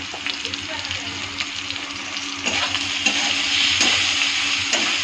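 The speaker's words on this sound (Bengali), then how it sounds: "হলুদটা দিয়ে নেড়ে দেবো।" Potatoes and turmeric stirred in a frying pan: a steady oily sizzle with repeated scraping strokes of the spoon, close and moderately loud, with a faint voice in the background.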